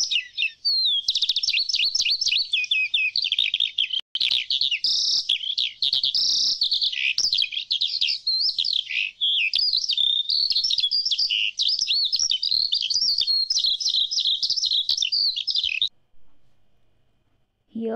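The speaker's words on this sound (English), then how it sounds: "She heard a skylark sound." Continuous high, warbling birdsong pours out nonstop for about sixteen seconds, bright and trilling, then cuts off abruptly into quiet.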